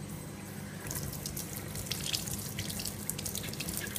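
Hot tap water runs into a sink as brake pads are rinsed under it, a steady splashing stream that grows busier and more spattery after the first second, close and fairly quiet.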